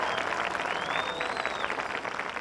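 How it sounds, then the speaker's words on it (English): An audience at a high school community showcase applauds the band staff with continuous, fairly even clapping heard from a distance, along with a faint high whistle. "Let's give a round of applause for our staff,"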